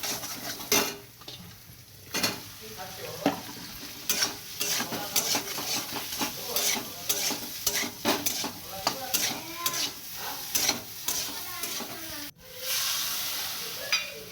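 Soybean chunks being sautéed in a pan with ginger, cumin-coriander paste and dried chili powder in a village kitchen, with a steady sizzle under repeated stirring and scraping of a utensil against the pan.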